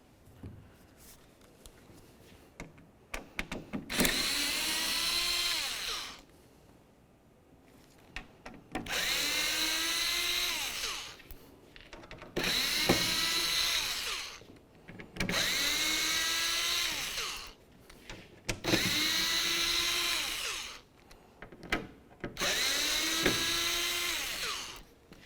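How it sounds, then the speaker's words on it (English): Power screwdriver removing Phillips head screws from the tailgate faceplate of a 2004-2015 Nissan Titan: five loud whirring bursts of about two seconds each, spaced by short quiet gaps, close up with no talk. "Remove all the screws and then the protective plate."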